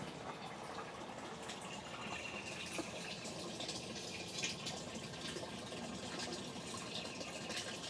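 An electric water pump runs steadily, water gushing and splashing as it fills a self-refilling hydroponic reservoir, a faint continuous rush with small drips throughout.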